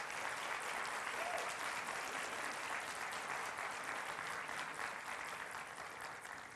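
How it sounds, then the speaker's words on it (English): An audience claps at a college convocation, a dense, steady round of applause lasting several seconds and slowly tapering at the end, heard from a distance. "Please join me in a round of applause for our newest colleagues."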